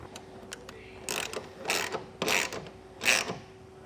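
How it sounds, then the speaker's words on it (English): A ratchet snugs a bolt and nut down onto the rail of an Access Lorado soft roll-up tonneau cover on a 2017 Chevy pickup, giving four loud bursts of clicking close by with short pauses between them. "Now we can just snug down our hardware."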